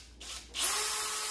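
An electric screwdriver unscrewing the screws of a NEMA 14-50P 50 amp angle plug: brief scraping and handling, then a steady high motor whine that starts and holds close up.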